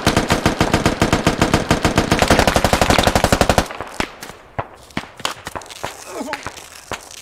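Rapid automatic gunfire from the military shooter game Squad, a loud sustained burst of dense regular shots for several seconds, then scattered single shots and thuds at a lower level.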